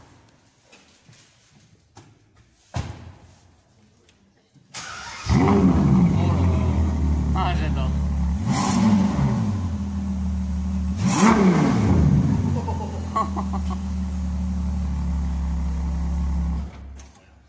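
A powerful Ferrari 812 Superfast engine fires up in a parking garage after a quiet moment, then revs loudly twice in sharp surges before settling into a deep, rumbling idle, with brief talk beforehand.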